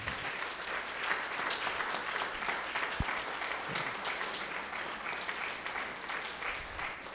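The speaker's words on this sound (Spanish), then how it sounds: "Un aplauso fuerte al Señor." Loud, dense applause from a church congregation fills the room steadily from start to finish, with one sharp knock partway through and faint voices mixed into the clapping.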